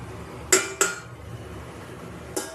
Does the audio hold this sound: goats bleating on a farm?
no